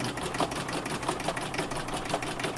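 An embroidery machine sews decorative stitching on an in-the-hoop bag with heat-transfer vinyl, giving a steady, close, fast mechanical whir and needle chatter with no one talking.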